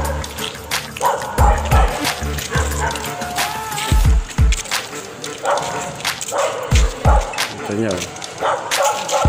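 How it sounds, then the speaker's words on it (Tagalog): Dogs barking at night during a neighbourhood patrol, several sharp bursts of barks and yips at mid distance, recurring in clusters over a murmur of people talking nearby. "Halos aso lang ang marinig yung maingay."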